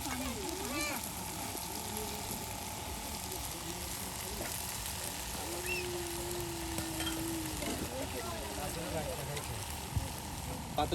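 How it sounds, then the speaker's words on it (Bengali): Okra and potatoes sautéed with spices in a pot at a riverside camp, a steady close sizzle and frying hiss with occasional stirring scrapes, continuous throughout with faint background sounds. "মশলার সাথে ঢেঁড়স, তার সাথে আলু চচ্চড়ি করে নেওয়া হচ্ছে। একদম বেশ সুন্দর করে কিন্তু কষানো হচ্ছে"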